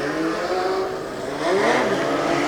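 Legend Cars race cars pull away at the start of a heat, several engines revving and climbing in pitch together, loud and overlapping, swelling near the end.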